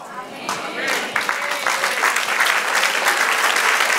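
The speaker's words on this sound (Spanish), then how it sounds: "Apláudele, eso lo aplaudo" A congregation applauds during a Spanish-language sermon by a pastor, a dense wash of clapping swelling over a few seconds, with a preacher's voice still carrying over the crowd.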